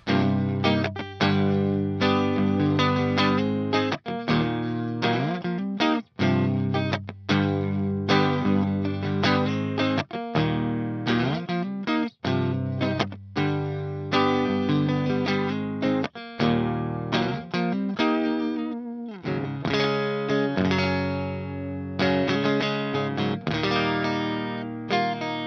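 An electric guitar plays chords and single notes through the clean channel of an Audio Assault RVXX EX amp plugin, all controls at half, sustained and fairly smooth with slight grit, continuous with short pauses between phrases.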